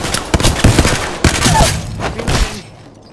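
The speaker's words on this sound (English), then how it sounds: "Opening fire." Gunfire in the video game Apex Legends, a rapid run of punchy shots and thuds in close, dense bursts lasting a few seconds before cutting off.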